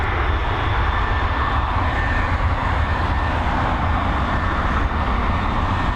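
An Air Canada airliner at Dublin Airport roars steadily, a loud continuous engine drone with deep rumble throughout and no talking.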